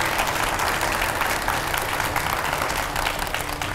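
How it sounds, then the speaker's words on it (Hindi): A television studio audience breaks into strong, continuous applause to welcome a guest, a thick, even wash of clapping with no talk over it. "एक बार जोरदार तालियों के साथ स्वागत कीजिए देवकी नंदन जी महाराज का।"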